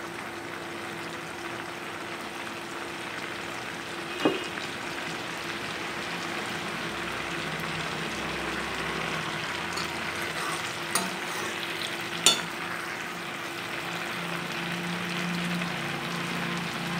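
Butter melting over a high flame in a pan for homemade ghee, giving a steady soft sizzle and crackle throughout, with a few brief sharper pops and clinks near the pan, and no voices.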